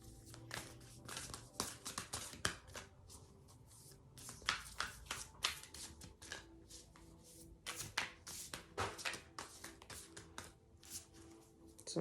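Tarot cards are shuffled by hand in repeated quick riffling bursts and soft flicks. The sound is close and moderately quiet, with no speech over it.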